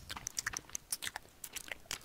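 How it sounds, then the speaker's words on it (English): Wet chewing and crunching bone-grinding from The Forest video game, a quick uneven run of close, sharp bites and crunches repeating throughout with no talk. "there's random voices and constant chewing and grinding the bones in your ears"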